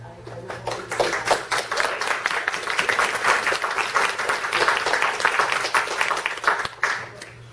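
An audience at a library board meeting breaks into sustained applause: many hands clapping densely for several seconds, close and moderately loud, then tapering off at the end.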